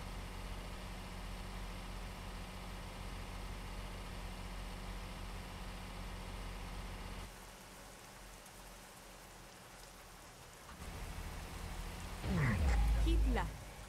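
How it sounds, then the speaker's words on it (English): Steady rain patters on a vehicle in a soft, continuous hiss, with a low engine hum beneath and a brief louder thump near the end. "Oh, it's raining. That's what that sound is."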